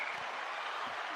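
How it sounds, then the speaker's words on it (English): Steady, dense applause for a guest welcomed onto a talk show, a continuous soft wash of many clapping hands heard at a distance, faint and even throughout with no voices over it. "Round of applause for Tracy."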